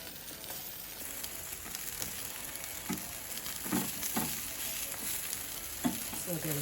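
Jerk buffalo wings sizzle on a grilling mat with sauce, a continuous crackling hiss at moderate loudness with occasional soft pops and thumps close by.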